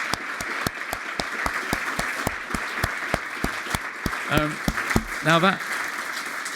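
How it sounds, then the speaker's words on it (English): An audience applauds keynote speakers at a business anniversary event, clapping in a slow steady rhythm under a voice speaking, with brief cheering or chatter near the end. "Another round of applause."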